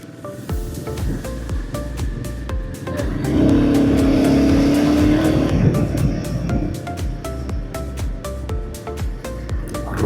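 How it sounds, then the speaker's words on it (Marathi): A car engine roars past on a city road, swelling loud then fading under steady traffic and rider wind noise. "रोर करते गाडी रोर."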